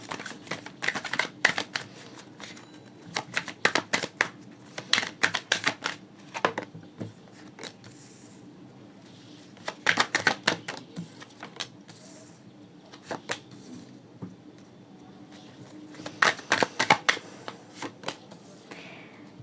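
Tarot cards shuffled in repeated short bursts of riffling flicks, soft and close, separated by quiet pauses, with no voice heard.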